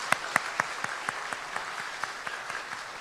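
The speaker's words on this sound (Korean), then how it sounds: "박수하겠습니다" Church congregation clapping together at a Sunday service, a short run of about a dozen rhythmic, evenly spaced claps, fairly loud and close with no talking.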